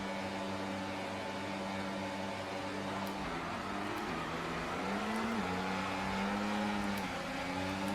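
A pack of race cars starting the Emilia Romagna Grand Prix in F1 24, engines droning in layered steady whines that rise and shift pitch as the cars accelerate off the line, constant and fairly loud.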